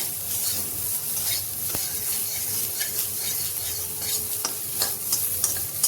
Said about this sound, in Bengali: সয়াবিন ভাজতে বেশি টাইম লাগে না,